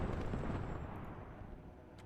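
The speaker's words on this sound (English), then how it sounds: "The artillery's coming in again" Artillery shells land in the Cold War strategy game WARNO as a continuous rumbling low barrage of dull booms, heavy and steady for the whole stretch with no voices over it.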